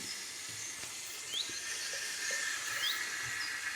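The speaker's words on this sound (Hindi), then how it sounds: "सीजलिंग प्लेट में अब थोड़ा सा मक्खन डालेंगे और मक्खन को चारों तरफ फैला देंगे और अब इस पर स्टेक रख देंगे।" T-bone beef steak sizzling on a hot sizzling plate spread with butter, giving a continuous, loud, bright hiss that swells slightly and runs on without pause.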